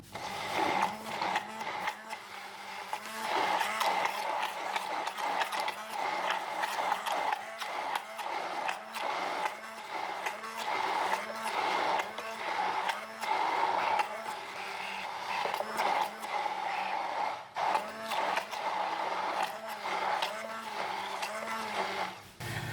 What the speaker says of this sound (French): Ici, je vais utiliser l'huile de tournesol. Et on va encore une fois mixer pour tout crémer.